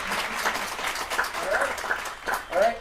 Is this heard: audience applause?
yes